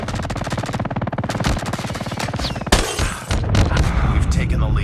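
Rapid automatic gunfire from a STEN submachine gun in the mobile shooter Call of Duty Mobile, a continuous rattling burst followed by booming impacts and more fire, with game voice callouts over it.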